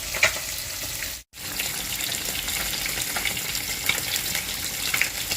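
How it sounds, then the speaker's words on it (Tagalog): Fish paksiw in vinegar boils in a pot with a continuous bubbling, sizzling hiss that drops out for a moment early on. No voices. "kumukulo na po yung ating paksiw"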